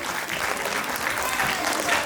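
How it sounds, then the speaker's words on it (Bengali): An audience applauds a school dance teacher at a stage event, a short burst of dense, steady clapping that holds at an even level from start to finish. "দর্শক মণ্ডলী, ওনার জন্য একটা জোরদার করতালি হয়ে যাক"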